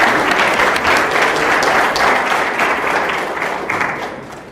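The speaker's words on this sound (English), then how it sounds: "Another round of applause for our speaker." A seated audience at a public health lecture gives a dense, steady round of applause for the guest speaker. The clapping is loud and continuous and fades slightly toward the end.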